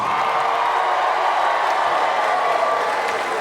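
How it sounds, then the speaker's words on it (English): Comedy club audience of married people cheering, whooping and clapping, a dense, loud wash of crowd noise that holds steady throughout. "Married people, make some noise"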